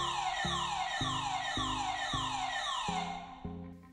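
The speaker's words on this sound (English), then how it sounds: "There's also a built-in alarm you can sound to scare away any intruders." Built-in alarm siren on a solar-powered AOSU wireless security camera, a loud electronic wail sweeping downward in repeated cycles about every half second, steady and alone before cutting off near the end.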